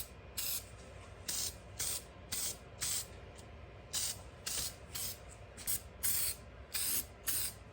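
Short bursts of spray paint hiss onto a dirt bike side cover being coated with textured paint, about a dozen even passes in a steady rhythm with quiet gaps between them.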